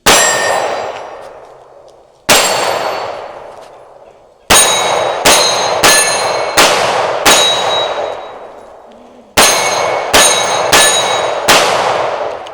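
Canik pistol shots striking steel targets at a shooting range, about ten sharp ringing clangs, loud and close, with gaps that shorten into quick strings and each metallic ring decaying slowly.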